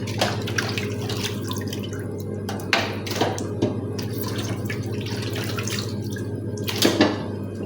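Tap water runs and splashes over raw meat being rinsed in a sink, a steady close trickle broken by several louder splashy bursts and drips as the pieces are handled, with a low hum underneath.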